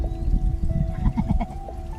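A goat on a farm coughs, giving a few short, rough bursts at close range over a low steady hum.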